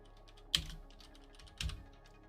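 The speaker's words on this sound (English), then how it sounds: "Sorry about the typing noises." Computer keyboard typing comes as two distinct keystroke clicks about a second apart, close and moderately loud over a faint background hum.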